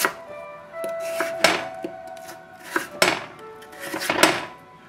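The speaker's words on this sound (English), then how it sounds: "you get nice little pieces of diced potato" Knife dicing potatoes on a cutting board for corned beef hash, with a series of sharp, close chopping knocks at irregular intervals, some in quick pairs, and no speech.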